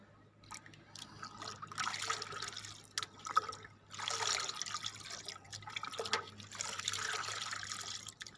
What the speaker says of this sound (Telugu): దీన్ని బకెట్ వాటర్ ఫుల్లో నేను మిక్స్ చేసుకుంటున్నాను.